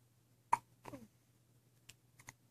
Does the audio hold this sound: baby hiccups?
yes